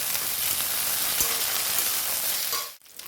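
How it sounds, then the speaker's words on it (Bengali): Soaked, rinsed cashews and raisins fry in a pan for a pulao, giving a steady, close sizzle with faint stirring that drops out abruptly near the end. "সেটাকে এর ভেতরে দিয়ে দিচ্ছি এবং একটু ভেজে নেব।"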